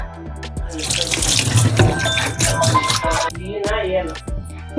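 Tap water running into a sink while fish is washed, a loud close gush with splashing and rattling of handled pieces, the flow shifting as the hands move under it.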